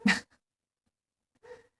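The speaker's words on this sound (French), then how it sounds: "Confirmation du chien des voisins." The neighbours' dog gives two short, sharp bursts, a loud one at the start and a softer one after a long silent gap, both somewhat distant and with no talk.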